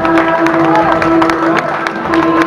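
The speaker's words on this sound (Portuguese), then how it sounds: "Vamos aplaudir os marinheiros também." At a São João festival parade in Castelo de Paiva, a crowd claps and cheers for the marching sailors. The applause is steady and dense, with voices and a sustained tone carrying through it.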